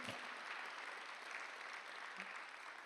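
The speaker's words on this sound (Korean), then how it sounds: "빨리 박수하세요" Faint, distant applause from a church congregation at a Sunday worship service: a steady, even wash of many hands clapping together throughout.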